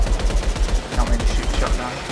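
Rapid gunfire from a shotgun in the video game Outriders, a dense burst of repeated blasts running throughout with no pause.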